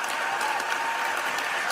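Applause in the Senate chamber for a record-breaking floor speech, a brief, steady patter of clapping at moderate level with no voices.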